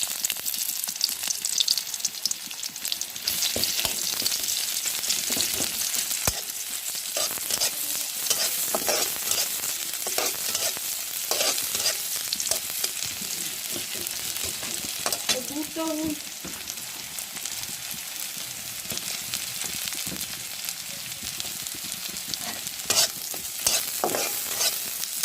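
Onions fry in oil in a pan with a long, steady crackling sizzle, broken by frequent scraping and clinking as they are stirred.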